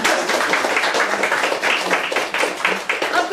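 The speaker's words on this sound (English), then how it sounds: "That feels like an applause moment." Audience clapping at a women's Q&A event, dense and lively applause that carries on steadily for several seconds without talk.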